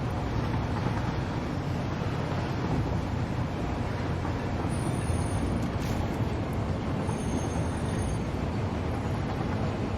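Trains running on a rail network in the Satisfactory factory game, a steady dense rumble with broadband noise holding constant throughout, no talk.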